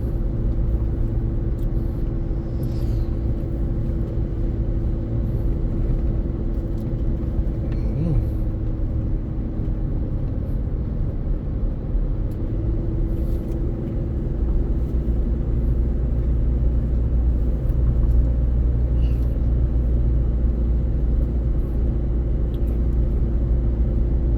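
A car drives along a rural road in Chiang Rai province, northern Thailand, giving a steady low engine and tyre rumble from inside the cabin, with no pauses or breaks.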